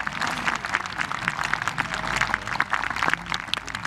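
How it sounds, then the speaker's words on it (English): Subdued applause from a golf gallery during the final round of a professional tournament in Japan, a steady, even patter of many hands lasting throughout at moderate distance, with no voices over it. "Muted applause, you'd have to say, because the crowd realize their hero has now lost the lead."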